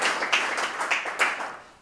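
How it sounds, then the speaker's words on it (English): A small group claps at a tech meetup demo session, quick uneven claps with a few sharper accents, close and short-lived, no talk. "I should applaud for him as well."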